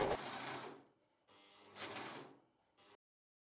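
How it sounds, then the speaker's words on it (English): Gritzner 788 overlocker sewing machine running with its cutting knife engaged, two loud close bursts of rapid mechanical whirring with a short pause between them and a brief final spurt, no talking. "the knife is switched on. Switched on means running."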